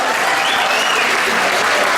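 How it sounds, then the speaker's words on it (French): Dense, steady applause from a crowd at a community charity run event in Liège, filling the whole moment with continuous, close clapping. "on applaudit Michel Powell pour cette belle initiative."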